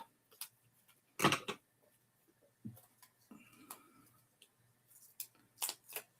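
Scissors snip paper for a craft project in a series of short, close, crisp cuts separated by quiet gaps, with light handling noises between them.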